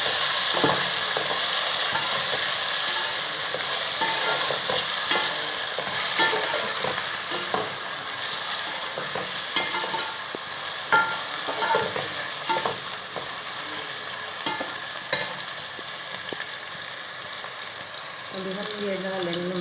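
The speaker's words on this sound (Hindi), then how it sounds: "अभी हमने ये टमाटर मिर्ची डाले, इसे ज़्यादा नहीं पकाना" Tomatoes and chillies fry in a pan for macaroni, giving a loud, continuous sizzle up close with scattered crackles and stirring scrapes, and a brief voice near the end.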